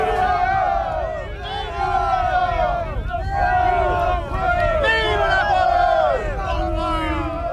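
Thousands of Napoleon's soldiers cheering around torch-lit bivouac fires at Austerlitz: a dense, sustained crowd of shouting, rising voices, loud and close, with overlapping whoops swelling and falling throughout.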